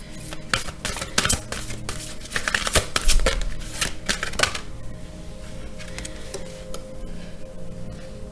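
Tarot cards being shuffled up close, a quick run of crisp riffling snaps and papery flutters for several seconds, then settling into a soft, quieter rustle with no talking.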